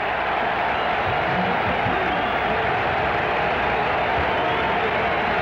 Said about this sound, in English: the crowd at Foxborough reacts as Nick Lowry comes onto the field to attempt the field goal